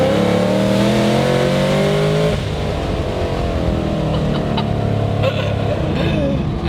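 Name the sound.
supercharged car engine revving with whine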